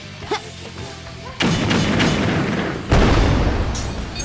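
A sticky bomb detonates in the Sonic Infinity Engine game: two loud, booming blasts in quick succession, each followed by a sustained rumbling roar, after a few quieter thumps.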